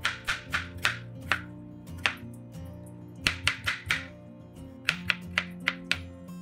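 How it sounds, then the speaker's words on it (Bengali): A knife cuts potatoes and bitter gourd on a board in short bursts of sharp, close chops with brief pauses between them, over a low steady hum in a home kitchen. "একদিকে এই আলু উচ্ছেগুলো কেটে নিচ্ছি"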